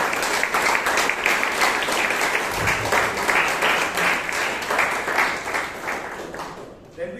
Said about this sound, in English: So please give Amrit a huge round of applause.